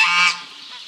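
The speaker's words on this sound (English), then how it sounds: "Oh, and the geese are coming too." Farm geese give a short, loud nasal honk close by, fading quickly into quiet background.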